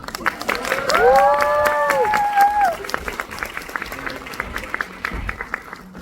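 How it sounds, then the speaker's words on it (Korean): Audience applause at the curtain call of the musical Via Air Mail on its closing day, steady clapping from a crowd with a voice rising briefly over it early on, then thinning toward the end. "박수 좀 주세요."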